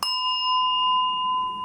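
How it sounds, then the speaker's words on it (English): A single clear bell tone rings out and sustains evenly, marking a breathing count within a meditation music track, alone with no voice over it. "the count is done by using a bell, and it is in the music"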